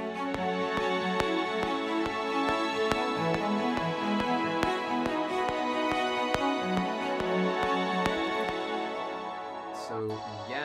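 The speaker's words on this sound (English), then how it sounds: "And with the cellos." Sampled strings with cellos play a sustained, layered chordal passage in a home-produced track, soft and continuous, with light percussive ticks marking the beat underneath.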